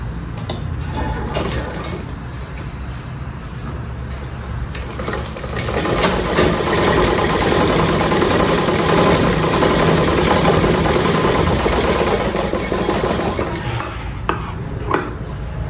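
A sewing machine stitches piping onto a blouse, its motor running in a steady, dense whir that builds and holds loudly from about six seconds on, with faint handling noises mixed in.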